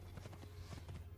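Faint horse hooves clip-clop in Assassin's Creed II, a few quick hoofbeats over a low steady hum.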